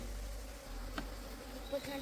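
Honeybees hum around a hive box in a soft, continuous drone, with a few brief individual buzzes passing close by.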